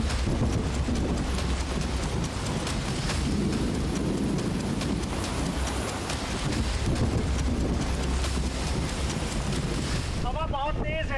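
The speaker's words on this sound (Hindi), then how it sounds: "हवा बहुत तेज है, बारिश है" Strong wind roars in a continuous, loud, close rush buffeting the microphone, mixed with steady rain hiss, outdoors in stormy weather; a brief voice or birdlike chirps appear at the very end.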